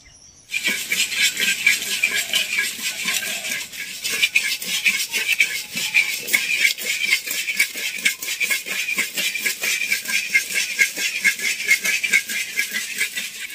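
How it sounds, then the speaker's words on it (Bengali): Salted, moistened rice grains fry in a hot pan in a village kitchen, a dense continuous crackle and rattle of popping grains that starts abruptly and holds steady throughout. "বাকি চাউলটা আমি এই যে নুন পানি দিয়ে আওলা নিলাম, এখন আমি ভেজে নেব।"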